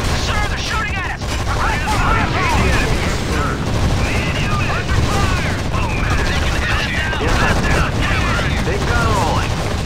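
Battlefield gunfire in the strategy game Act of War: High Treason during a desert siege, dense overlapping shots and bursts over continuous rumble, with voices and radio chatter talking throughout.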